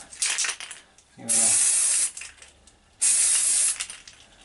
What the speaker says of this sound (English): So this is the glitter spray paint.